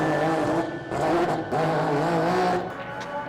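A race car engine on a practice lap on a crisp, windless day, a loud sustained high-revving drone that rises and dips with gear changes, echoing without any voices over it.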